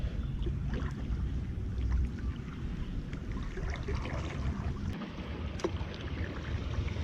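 A homemade Oru-style folding kayak runs down a river rapid, with rushing, turbulent water close by, occasional paddle splashes and some wind buffeting the microphone, and no one speaking.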